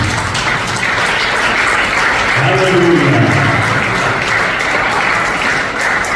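A church congregation at a Spanish-language Bible lesson breaks into sustained, dense applause filling the space, while a voice calls out over it partway through.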